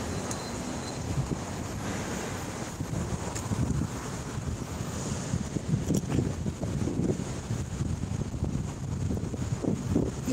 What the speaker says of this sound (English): It's windy a little bit.